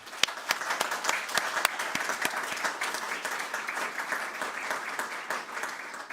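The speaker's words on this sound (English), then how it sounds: "I ask everyone to give them a huge round of applause" Audience at a university commerce graduation ceremony giving a sustained round of applause, a dense wash of many hands clapping in a large hall, steady and moderately distant throughout.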